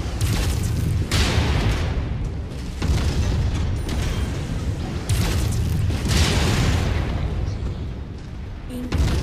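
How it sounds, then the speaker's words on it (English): Missile explosions in the MechWarrior 5 co-op video game, a series of heavy booming blasts rolling one after another over a constant rumbling mech soundscape, loud and close. "Incoming missile."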